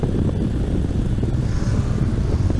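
A motorcycle engine fitted with an aftermarket under-mounted exhaust, a loud, close, deep continuous rumble heard while riding, with wind rush over it and no talking.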